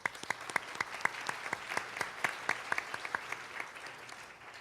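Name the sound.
audience applause welcoming a lecturer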